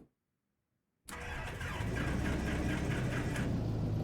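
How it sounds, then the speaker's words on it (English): A light aircraft's engine starts in the X-Plane 12 flight simulator: after a second of silence it catches abruptly and settles into a loud, steady propeller drone that continues without a break. "Stick to the belly and engine start."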